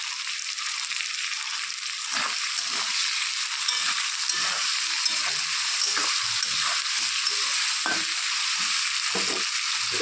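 Potatoes frying with onion, salt and turmeric in a pan, a steady close sizzle with intermittent stirring scrapes, no talking.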